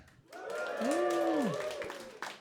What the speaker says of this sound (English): Can I get a little cheer for my dad?